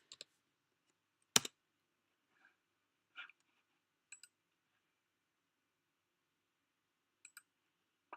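A few sparse, faint keystroke clicks on a computer keyboard, with one sharp louder click, separated by long quiet gaps and no talking.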